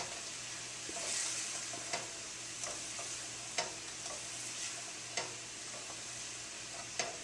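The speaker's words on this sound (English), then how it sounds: "We're going to just stir this to get those pieces up off the bottom to deglaze the pan." Teriyaki sauce is stirred in a pan with chicken teriyaki to deglaze it, giving a steady soft sizzle broken by several sharp scrapes and clicks of the utensil against the bottom, close by and alone.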